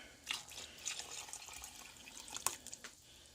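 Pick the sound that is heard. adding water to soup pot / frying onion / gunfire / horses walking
adding water to soup pot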